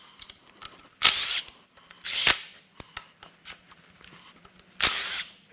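Power tool removing bolts from a salty, high-mileage Subaru Outback EZ30R 3.0 H6 engine during teardown, with several loud, close whirring bursts separated by sharp clicks and ratcheting taps.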